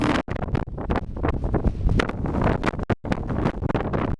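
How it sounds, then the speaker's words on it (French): Strong wind in Iceland buffets the microphone in loud, gusty roaring bursts with brief lulls between them, close and continuous, with no voices. "il y avait tellement de vent que pour réussir à se parler, il fallait se tenir serré"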